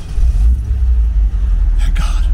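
An MGB sports car engine runs after its fouled spark plugs were cleaned, a steady low rumbling idle that stays loud and close, with a brief higher whoosh near the end.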